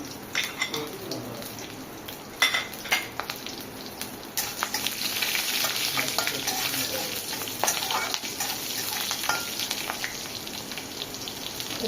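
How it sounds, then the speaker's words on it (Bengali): Dried red chilies, green chilies, cumin and nigella seeds sizzle and crackle in hot oil in a Bengali kitchen, with sharp spattering pops early on giving way to a steady, loud frying hiss. "এবার আমি শুকনো লঙ্কা, কাঁচা লঙ্কা দিয়ে দিলাম, আর এটা জিরা আর কালো জিরা দিলাম।"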